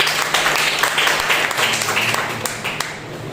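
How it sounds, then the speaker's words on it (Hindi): Church congregation clapping in praise of God during a Hindi Sunday worship service, a steady dense applause filling the room throughout with some voices mixed in. "आइए हम उस जिंदा और सच्चे पिता के लिए जोरदार तालियां हो जाए"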